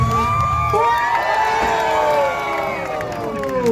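A crowd at a jet ski freestyle show in Pattaya cheers and whoops loudly and continuously, with children's shouts mixed in and steady high-pitched crowd noise throughout.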